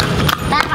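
Horse hooves clip-clop in a quick, uneven rhythm during a horse ride, close and fairly loud within a short burst.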